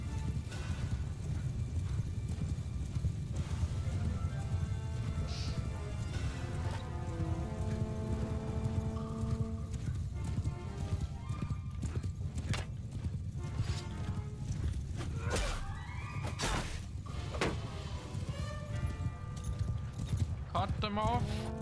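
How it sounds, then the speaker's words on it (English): Many horses clatter and whinny in a dense, continuous din in the video game Mount & Blade II: Bannerlord, hooves drumming beneath voices and swelling battle noise throughout. "And all the horses are just noise."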